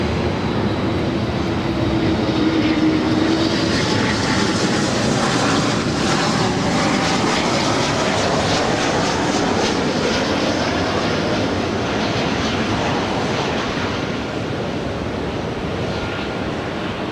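A jet airliner taking off from runway 24 left at Los Angeles LAX, a steady broadband engine roar holding loud and continuous, with no talk over it.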